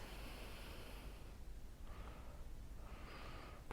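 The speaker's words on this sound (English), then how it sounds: "Deep inhales and exhales really help calm us." Soft, slow breaths during a calm yoga flow, a faint airy inhale followed by a longer exhale, close and quiet with no talking.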